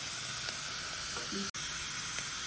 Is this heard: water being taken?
no